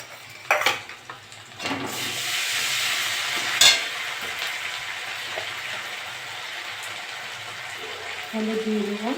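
Ginger garlic paste frying with browned onions and dried red chilli in a pan for a pangas fish jhal, a steady moderate sizzle with a few sharp clinks of a spoon against the pan.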